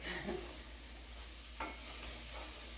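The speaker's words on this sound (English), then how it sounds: "So give that a little stir." Garlic is stirred in a pot for mushroom soup, giving a faint sizzle with a couple of soft scraping stirs over a low steady hum.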